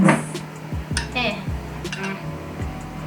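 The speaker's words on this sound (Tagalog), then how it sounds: "i-mix natin ang dry and wet ingredients natin together" Dishes and utensils clinking and scraping in a bowl as dry and wet snack batter ingredients are stirred together, a few knocks and clinks of moderate loudness close by.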